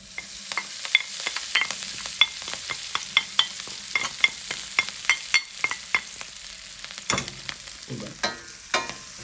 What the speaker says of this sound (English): now we're gonna add some garlic and parsley to the pot